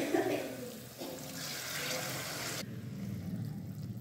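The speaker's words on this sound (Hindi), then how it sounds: "अब बाकी जो ये कड़ी है इसके अंदर हमने ये जो बॉइल्ड पानी था हमारा ये सारा का सारा हमने डाल देना है।" Boiled water is poured into a pot of besan kadhi with gatte, a splashing, gushing pour that runs for a few seconds before settling into a quieter bubbling.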